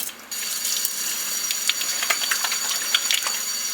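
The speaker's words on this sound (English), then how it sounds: "I'm going to flip it over and put it under some running cold water here" Cold tap water running over the face of a 12-inch telescope mirror, a steady close splashing gush with small irregular spatters throughout.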